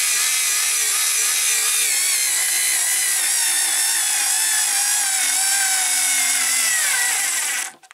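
A SKIL 2710 electric screwdriver strains against screws in wood, its motor whining loud and close in one sustained, wavering run before cutting off abruptly.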